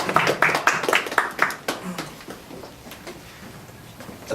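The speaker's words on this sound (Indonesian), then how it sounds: "Sekali lagi berikan apresiasi, tepuk tangan buat hambanya." A church gathering claps in appreciation of a preacher, a short burst of distinct hand claps from a modest group that quickly fades to scattered faint claps and room noise.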